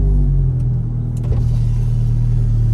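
A Ferrari 430 engine idles just after starting, a loud steady low rumble up close with a brief mechanical click partway through and no voices.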